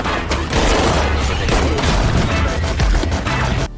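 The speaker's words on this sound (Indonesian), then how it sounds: "kemudian terjadilah baku tembak di sana" Heavy gunfire and booms from a film shootout between a former special forces soldier and his enemies, a dense continuous barrage of shots and impacts filling the whole stretch, loud and close with no talk.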